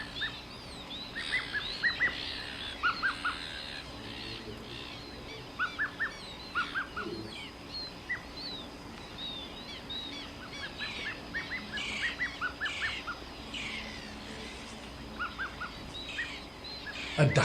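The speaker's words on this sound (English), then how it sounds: "brown-hooded gulls are nesting" Brown-hooded gulls call at a nesting colony, giving repeated sharp, mid-distance cries in short bursts over a constant background hum of many birds.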